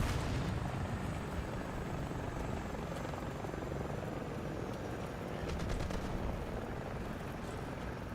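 Inside a video game, a helicopter gives off a continuous loud rotor thrum that holds steady throughout, with faint distant bangs mixed in.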